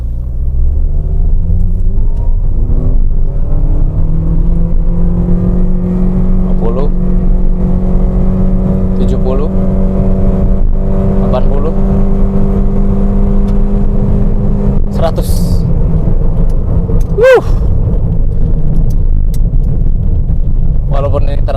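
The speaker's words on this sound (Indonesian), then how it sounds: "Sekarang kita coba iseng aja akselerasinya 0 sampai 100." A 2016 Toyota Sienta Q minivan with a CVT accelerates from 0 to 100, its engine drone rising steadily in pitch under loud road rumble heard from inside the cabin, with a voice speaking over it.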